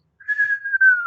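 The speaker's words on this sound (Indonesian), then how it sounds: "melainkan suara siulan" A single steady whistled tone, held for about a second with slight wavering and a gentle downward glide at the end, clear and close.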